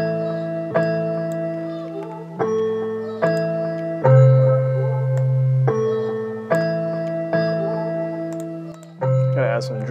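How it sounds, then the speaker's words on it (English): Chopped vocal samples in a trap beat built in FL Studio 20 play as repeated pitched, sustained syllables, retriggered in a steady rhythmic pattern over a low bass tone. They are loud and upfront, with a quick fluttering variation at the end. "I have some cool little vocal chops."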